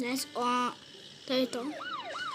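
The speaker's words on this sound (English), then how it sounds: "that sounds like a police car" A wailing police car siren rises and falls in short bursts, with sweeping pitch glides near the end and a voice speaking briefly.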